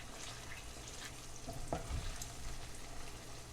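A beef mixture for shepherd's pie, seasoned with salt, pepper and garlic, simmers in a pan with a soft, steady sizzle. A brief stir or bubble sounds midway.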